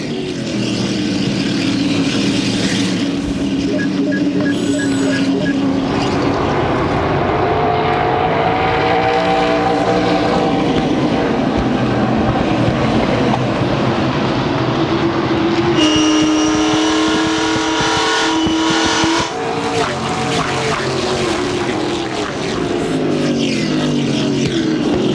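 ASA stock cars race at Indianapolis Raceway Park in 2003, engines roaring loud and near as a pack passes, with pitch sweeps of cars going by and a dense, continuous drone of the field.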